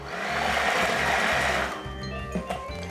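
Electric mixer whirring through crêpe batter made with wine, a loud buzzing blend for about a second and a half that then cuts to a quieter kitchen hum.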